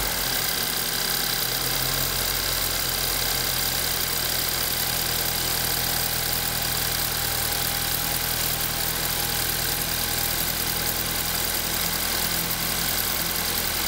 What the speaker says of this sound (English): You'll hear a serious amount of noise coming from the timing system